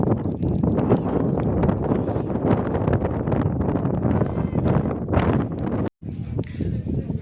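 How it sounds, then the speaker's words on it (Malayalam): Strong wind buffets the microphone in misty hill country at the Gopalswamy hills, a continuous loud rushing roar that briefly cuts out near the end before resuming. "നല്ല കാറ്റും കോടയാണ്"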